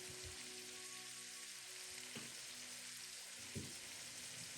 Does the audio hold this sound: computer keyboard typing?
no